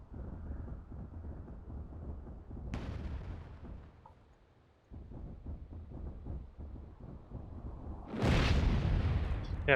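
Cannon fire and booming artillery in the fantasy strategy game Myth II: Soulblighter, during an attack on fortified walls, with deep rumbling blasts rolling continuously and a sharper, louder crash near the end.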